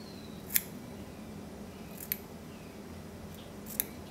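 Sharp scissors make three crisp, separate snips through fabric while trimming material for a saltwater fly, quiet and close against a soft room hush, with no talk.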